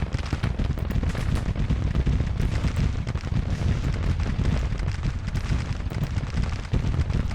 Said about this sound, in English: That's a big battery of artillery right there.